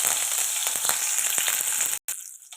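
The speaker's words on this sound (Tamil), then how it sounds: "சோம்பு நல்லா செவக்கட்டும்" Fennel seeds fry in hot oil for an egg masala, giving a loud, steady, close sizzle with scattered crackles that cuts out briefly near the end and returns quieter.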